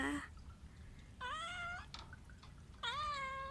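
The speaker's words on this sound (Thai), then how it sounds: "วันนี้ก็พามาดูน้องเหมียวนะคะ" A domestic cat meows at close range, three distinct rising-and-falling calls spaced about a second apart, with faint trickling water and low room noise between them.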